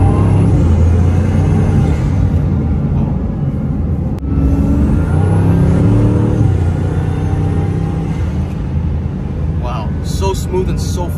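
A Bugatti Chiron Super Sport's 1600-horsepower engine roars steadily at close range, building as it accelerates, with a brief turbo whistle and some chatter near the end.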